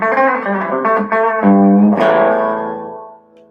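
A bright, trebly electric guitar with its tone control turned all the way up plays a short phrase of notes and ends on a ringing chord that slowly fades out.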